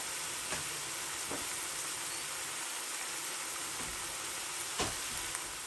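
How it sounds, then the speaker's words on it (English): Sweet soy sauce is poured into a hot pan for plantain lasagna and sets off a steady, loud sizzling hiss with a few soft clicks of utensils, heard close and without speech. "And now I'm going to add in my sweet soy sauce here."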